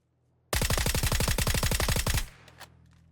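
Suppressed automatic gunfire in the video game PUBG: a rapid, loud burst of about twenty evenly spaced shots lasting nearly two seconds, cutting off into quiet with a couple of faint clicks after.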